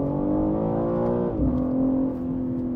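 A BMW M3 Touring's engine drones steadily up close as the car drives, its pitch holding, then dipping briefly and settling lower as revs change, with no voices over it.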